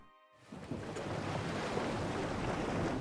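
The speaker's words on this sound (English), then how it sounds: "The distance closes quickly as soon as massive hull rolls on the waves beside your ship." Ocean waves wash and roll against a ship's hull at sea in the video game Pillars of Eternity II: Deadfire, a steady broad surging roar with wind that swells in after a brief quiet start.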